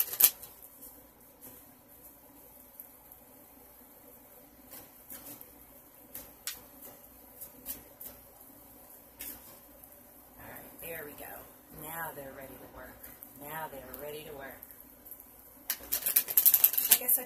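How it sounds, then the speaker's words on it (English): Tarot cards shuffled by hand, soft papery riffles and flutters in irregular bursts through the latter half, faint and close, with quiet room noise and a few brief taps earlier. "I could have shuffled before I started the video, but I like shuffling on the video."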